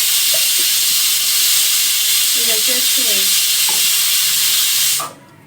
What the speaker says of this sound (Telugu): పప్పు కూడా విజిల్ వచ్చేసింది మూడో విజిల్